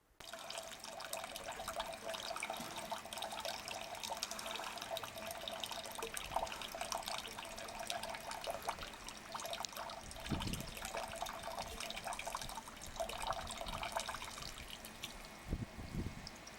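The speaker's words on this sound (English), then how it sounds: "Check out this video of some manatees drinking fresh water from a pipe on our campus." Fresh water runs from a pipe where manatees drink, a steady trickling and splashing flow heard alone and fairly faint, with a few soft thuds and sloshes near the end.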